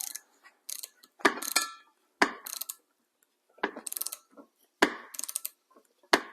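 Mechanic pre-tightening the bolts on a Mercedes-Benz E300 U-joint, a series of close ratchet clicks in short bursts with brief pauses between them, no talking.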